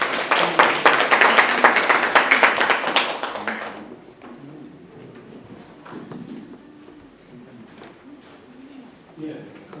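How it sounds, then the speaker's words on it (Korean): Audience at a Seoul labor-policy forum gives a short burst of lively, close applause welcoming a speaker, which stops abruptly after about four seconds, leaving quiet room noise and faint shuffling. "큰 박수로 맞이해 주십시오."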